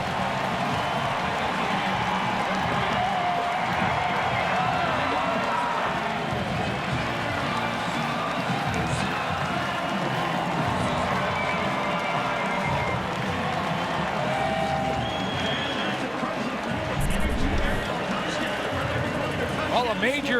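A packed stadium crowd roars for a touchdown at Mosaic Stadium during a CFL game between the Winnipeg Blue Bombers and Saskatchewan Roughriders. The dense, sustained cheering fills the whole stretch, with commentary voices running over it.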